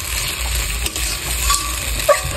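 Ground spice paste is stir-fried in a pan for a meat dish, giving a steady sizzle with occasional scraping clicks of a spoon, close and fairly loud with no talking.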